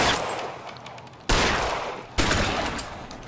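Two sharp, loud gunshots from L.A. Noire ring out about a second apart, each followed by a decaying echo over a steady background of game ambience.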